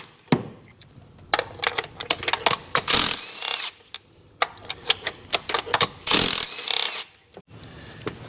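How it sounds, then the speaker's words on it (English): An impact wrench removing spark plugs from a Honda CR-V fires in several short, loud rattling bursts, with clicks and handling noises in the quiet gaps between them. "Now I'm using an impact to remove them."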